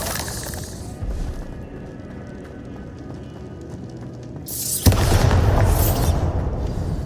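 A Bombarda explosion spell goes off in the Hogwarts Legacy video game, a sudden loud blast at the end that follows a stretch of low rumbling game ambience, with a dense noisy roar trailing after the hit.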